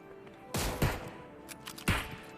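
Video game gunfire in a tense shooter match: a quick cluster of loud, close shots, a pause, then another sharp blast, with no talk over them.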